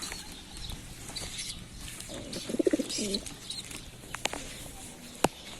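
Young pigeon squabs crying: a few soft, breathy squeaks and coos near the middle, close by, over quiet background rustling and faint clicks.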